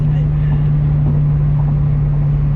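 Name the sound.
car interior engine drone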